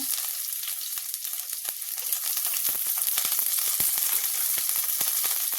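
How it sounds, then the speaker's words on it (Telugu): Sliced onions frying in hot oil with mustard seeds and cumin, a steady, dense sizzle with small crackles and pops throughout, close and continuous with no voices. "ఉల్లిపాయ ఫ్రై చేసుకుందాం."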